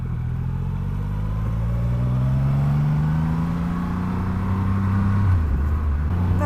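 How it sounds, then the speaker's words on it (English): A Triumph Rocket 3 R motorcycle with a 2500cc engine rumbles with a deep, steady low growl that rises slowly in pitch, then drops back near the end, heard up close with no talking. "You kind of feel this engine more than you actually hear it."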